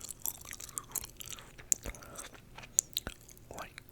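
Gum chewed close to the microphone in an ASMR setting, soft wet clicks and smacks in an irregular rhythm over a quiet background.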